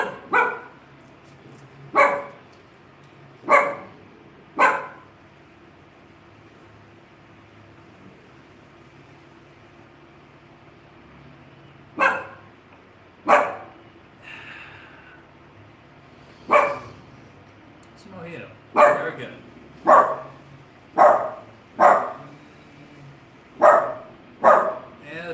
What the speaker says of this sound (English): the dog's gonna bark at the landscaping guy